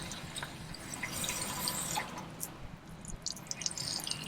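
Water drains from the pressure relief valve of an RV hot water heater, a continuous splashing trickle with scattered drips, fairly quiet and close, with no talking.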